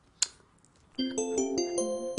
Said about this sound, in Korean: 문자 왔네.